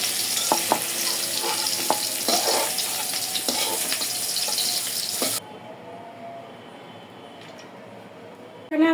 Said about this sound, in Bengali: এই যে লতিগুলো সুন্দর করে ভেজে নিচ্ছি